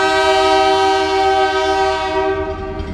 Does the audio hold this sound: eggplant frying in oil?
no